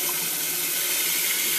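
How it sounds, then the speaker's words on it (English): Water rushes steadily through an open valve on an aquarium water change system, a constant, fairly loud hissing flow with no break. "The water comes down."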